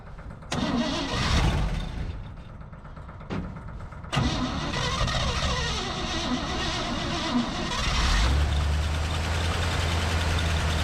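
The engine of an abandoned 1956 Chevrolet tow truck cranks and catches after a couple of tries, then runs steadily and loudly up close, settling into a rough idle with a deep rumble near the end.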